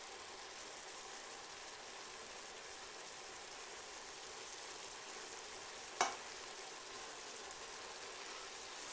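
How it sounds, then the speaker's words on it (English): Meat with miso browns in a pan, giving a steady close sizzle and crackle with one sharp clink partway through, no voices. "the miso is browning up really nice and letting some of the excess juice and water boil off a bit"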